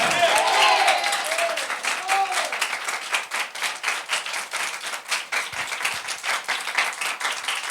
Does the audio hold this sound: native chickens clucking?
no